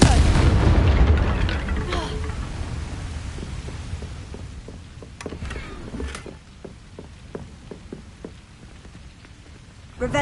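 The Confringo fire spell in the video game Hogwarts Legacy sets off a heavy, booming explosion. A rumbling decay follows, scattered with crackles and debris-like pops, and a voice speaks faintly underneath.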